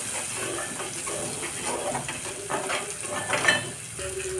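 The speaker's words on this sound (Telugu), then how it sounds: "కలుపుతూ ఉండాలి." Tomato and cashew paste for paneer curry is stirred in a hot pan, a steady soft scraping and sizzle with light clinks of a spoon against the metal, close and continuous, no voices.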